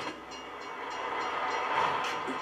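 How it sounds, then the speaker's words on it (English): A train passes in the 1971 film Duel, a steady, loud rushing roar with a faint tonal whine running through it from start to finish. "And now we have a train."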